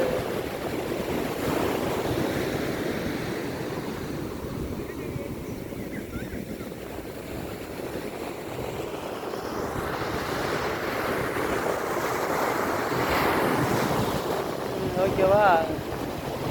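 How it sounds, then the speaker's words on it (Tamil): Sea waves roll and break at Kovalam beach, a steady surging wash with wind noise on the microphone, swelling louder toward the end, with faint voices in the background. "இதான் கடல்"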